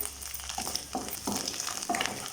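Garlic and a chopped green chili frying in oil for fried rice, a soft steady sizzle with periodic scraping stirs of a spatula, quiet and close, with no talk.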